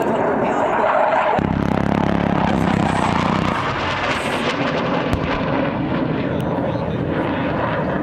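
A Royal Australian Air Force Hawk 127 jet flies a display at an air show, its loud, continuous engine roar filling the sky, with a voice talking over it.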